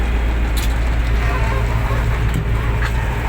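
A T-150 wheeled tractor engine runs steadily in third gear after a small repair, giving a continuous loud low rumble with a faint mechanical whine and no talk.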